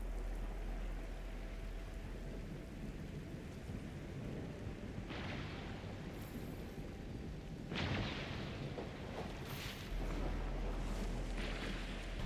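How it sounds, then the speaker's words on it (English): Heavy rain in the game Arknights: Endfield: a constant, dense hiss of downpour throughout, with deep rumbling swells and a few louder gusts rising out of the steady wash. "It's raining harder. I can't hear anything except for the rain."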